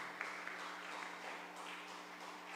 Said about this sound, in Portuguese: eu vou pedir nessa noite para que você aplaude o Senhor,